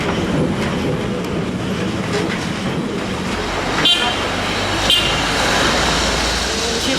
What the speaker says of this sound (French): L'une des façons les plus attachantes de découvrir Lisbonne est de le faire à bord de l'un de ces tramways colorés